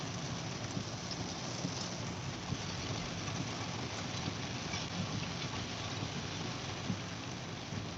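Rain falls steadily outside a car near a shopping mall, a constant dense hiss and patter with a faint low rumble beneath, no voices heard.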